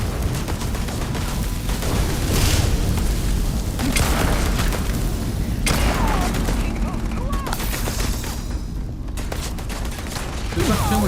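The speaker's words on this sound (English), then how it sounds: "Here, have a grenade." A grenade blast and surrounding combat gunfire in Starfield, a dense, continuous booming wash with repeated heavy thumps throughout, loud and close, with voices talking faintly underneath.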